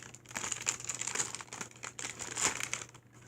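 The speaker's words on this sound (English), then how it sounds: "I'm going to try and peel the first side off" Backing paper peeled off a freshly ironed perler bead coaster, a faint close crinkling and tearing rustle that continues in small bursts over a low steady hum.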